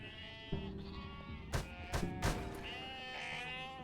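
Sheep bleating in the 2D stealth game UnMetal, several wavering bleats in a row, moderately close, punctuated by a few sharp thumps and clicks against a low game backdrop.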